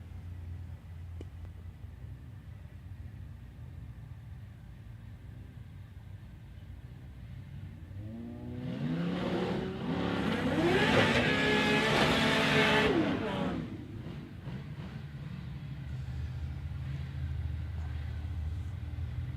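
Drag racing cars, among them a big Dodge Charger, launching down the strip at Warwick Dragway: a loud roaring run sweeps past over several seconds with squealing and rising engine tones, then fades back into a low rumble.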